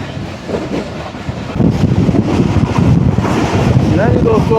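The Millat Express passenger train runs along the track, a loud, steady rumble and rattle with wind buffeting the microphone and faint squeals near the end.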